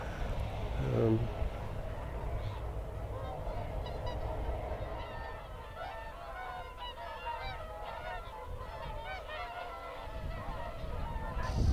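Many geese honking and calling at dawn over the Welney fenland, a steady chorus of overlapping honks spread across the distance, mixed with low wind and background rumble.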